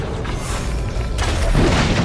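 A deep, rumbling boom from an explosion in the video game Middle-earth: Shadow of War, swelling briefly and then fading, with no talk over it.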